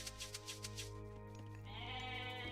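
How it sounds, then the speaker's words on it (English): Goats bleat faintly in a video game, a few quick repeated calls at first against a steady hum of game sound. "We got 21 goats here, maybe more in the center here."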